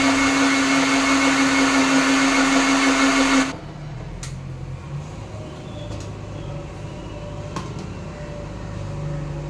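An electric kitchen mixer whirs loudly and steadily while blending a juice of dates and dry fruits, then switches off abruptly after about three and a half seconds, leaving quiet room tone with a few faint clicks.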